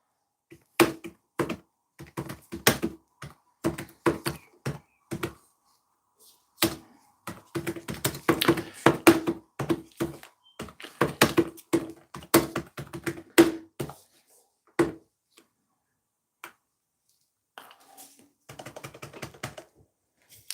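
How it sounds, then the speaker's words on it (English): Rapid bursts of typing on a computer keyboard during a live vlog, clustered keystroke runs separated by short pauses, close and fairly loud with no talking. "I'm just typing something"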